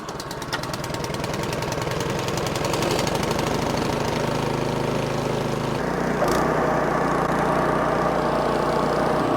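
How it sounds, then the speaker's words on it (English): A Craftsman snowblower engine, a basic model, starts up and runs loudly nearby with a rapid knocking chug, then settles into a steady roar, its pitch shifting slightly as the load changes partway through. "Let's go fire this Craftsman up."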